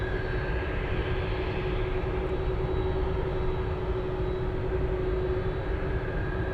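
A Cathay Cargo plane in from Hong Kong lands at Anchorage, heard as a steady, moderately distant jet roar with a faint tonal whine holding level throughout, no voices.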